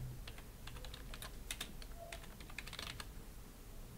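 Soft clicks of keys on a computer keyboard, a quick irregular patter of keystrokes over a faint background hum, close but quiet.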